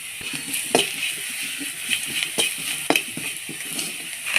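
Onions browning in oil with turmeric in a pan for a potato stir fry crackle and sizzle, broken by sharp scraping clicks of a spatula stirring every half second or so, close and fairly loud.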